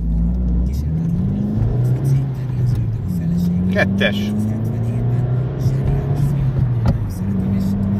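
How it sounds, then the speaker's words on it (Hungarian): Opel Astra GTC engine with a Sebring rear exhaust drum, revving and pulling through gears in a steady, loud drone with rising and falling pitch, heard from the car under a voice. "Nagyon kellemes hangja van ennek a Sebring dobnak ott hátul."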